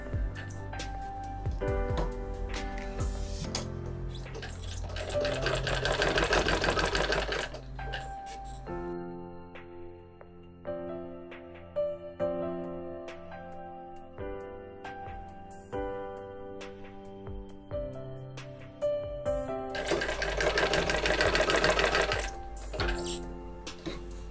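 A sewing machine runs in long whirring bursts with a steady mechanical rattle, dropping to slower ticking stitches in the middle, while someone talks throughout.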